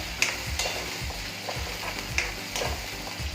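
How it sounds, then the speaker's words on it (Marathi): Ground masala fries in oil in a pan for palak paneer, a close, soft sizzle broken by repeated scraping stirs of a spoon at a steady rhythm, without talk. "थोडासा हा परतून घ्यायचा आहे आपल्याला मसाला तेलावर."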